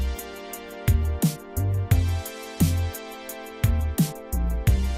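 An unmastered mixed music track made in FL Studio, with punchy kick and snare hits, bright cymbals and sustained synth or guitar tones, played loud and steady.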